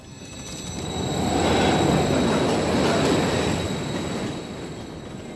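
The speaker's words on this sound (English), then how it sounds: "Another train coming." A train passes in the Call of Duty: Modern Warfare III campaign, its rumble swelling to a loud roar with wheel squeal and clatter, then slowly fading, with no voices.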